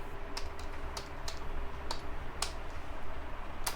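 Keys tapped on a computer keyboard while entering an HTML doctype declaration, a sparse run of light, crisp clicks at an uneven pace over a steady low room hum.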